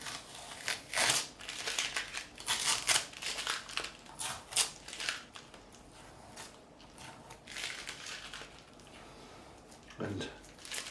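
Masking tape peeled in short crackling tearing strips off the neck of a PRS SE Bernie Marsden guitar, quiet and close, with irregular bursts and pauses between pulls.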